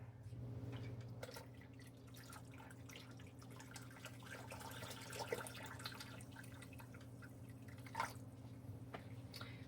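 Water pouring from a tap into a large water bath canner holding tall jam jars, a steady low running and dripping wash under a constant hum, with a louder splash near the end.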